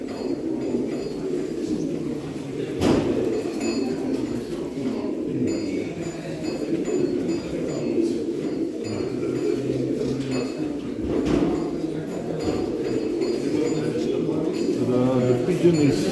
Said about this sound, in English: The pigeon is very much in the mood.